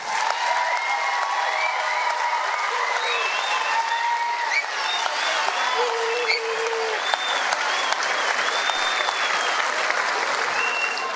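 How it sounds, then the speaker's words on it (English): Sustained audience applause for a children's choir at a San Juan Sings concert, a steady wash of many hands clapping with some cheering and voices mixed in, lasting over ten seconds. "would you give one more round of applause to these amazing kids up here?"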